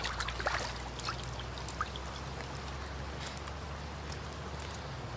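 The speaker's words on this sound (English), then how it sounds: "Give it a wash." A cleaned trout is rinsed in a cold river: steady rushing and trickling water with a few splashes near the start, close and continuous, with no talking.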